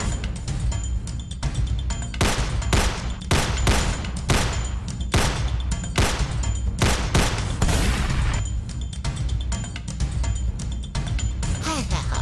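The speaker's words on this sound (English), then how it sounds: "I hear gunshots" Gunfire in the Roblox Brookhaven game: a loud, dense volley of rapid shots that repeats steadily throughout, with a continuous noisy background and no pause.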